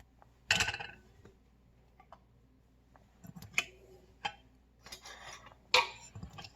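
Metal lids are screwed onto glass canning jars of habanero gold jelly, giving sharp scattered clinks and scrapes with quiet gaps between them, close by and fairly faint.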